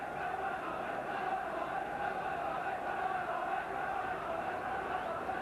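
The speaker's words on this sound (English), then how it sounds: "The crowd in excellent voice." A football crowd at a Sunderland vs Wolves match in 1992 keeps up a steady, distant roar of massed voices that holds level throughout, with no distinct chants or peaks.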